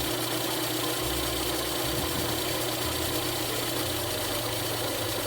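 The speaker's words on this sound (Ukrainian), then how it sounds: "поки двигун починатиме задихатися, начебто йому перестає хватати палива" A car engine on second-generation LPG gas equipment idles steadily with a low, uneven rumble, running lean and rough, its pitch shifting slightly as it starves for fuel, heard close and alone.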